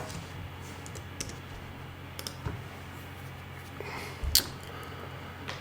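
Sparse, quiet key clicks on a computer keyboard tap out a few short bursts over a low steady room hum, with a slightly louder cluster of clicks near the end and no talk.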